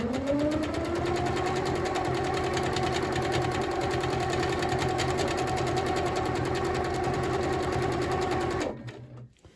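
A domestic sewing machine stitches fabric in free motion quilting, running with a fast continuous mechanical hum and rapid needle chatter for several seconds before stopping abruptly.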